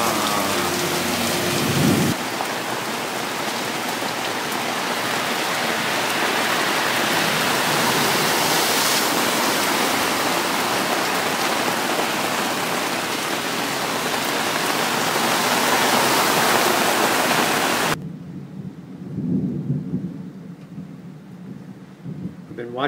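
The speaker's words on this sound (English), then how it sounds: "been watching lightning strikes from my living room" Heavy rain pours steadily through a thunderstorm, with thunder rumbling beneath the downpour; the roar cuts off abruptly near the end, leaving a quieter stretch of softer rain.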